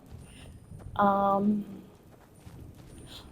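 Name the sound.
horse hooves clip-clopping in a video game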